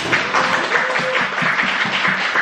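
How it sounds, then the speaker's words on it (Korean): Applause from a class audience at the close of a freelance lecture, a steady patter of many hands with faint low thumps beneath. "도움 많이 된 만큼 박수 부탁드리겠습니다"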